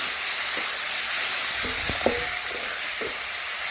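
Tomatoes sizzle and fry in a pan while being sautéed for a vegetarian moong dal with ridge gourd, a steady hiss with a few soft stirring clinks, no voices.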